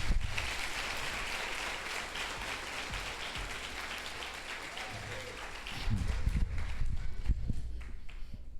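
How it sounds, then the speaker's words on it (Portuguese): A church congregation claps and cheers at a Christian conference, a dense, continuous wash of applause that swells louder near the end. "Dê um forte aplauso a Jesus."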